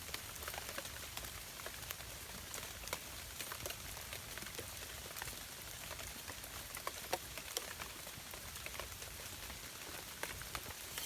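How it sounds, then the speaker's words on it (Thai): Light drizzle patters steadily and evenly outdoors while mushrooms are being gathered, a soft continuous hiss of fine drops with no voices. "อันนี้ฝนตกนะครับ"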